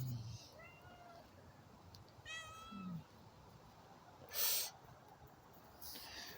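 A cat meows in a few short, faint calls at a distance, with quiet gaps and a brief louder noise between them.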